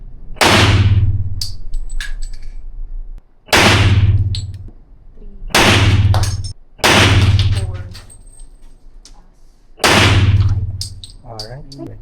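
Para 1911 .40 caliber pistol fired at an indoor range, five loud, sharp shots spaced a couple of seconds apart, each with a ringing echo tail.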